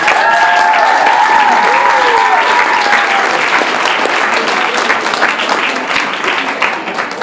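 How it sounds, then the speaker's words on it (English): Loud audience applause at a hypnosis show, a dense sustained roar of clapping with cheers and whoops rising over it early, then easing slightly toward the end. "Give these folks a huge round of applause."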